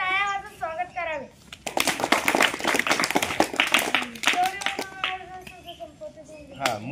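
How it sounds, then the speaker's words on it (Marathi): Children clapping at a school assembly (balsabha), a dense burst of hand claps lasting a few seconds with a speaking voice before and after it. "तरी सर्वांचे टाळ्या वाजवून स्वागत करावे"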